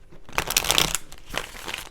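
Tarot cards are shuffled close by in two quick papery bursts, a brisk riffle followed by a shorter one after a brief pause.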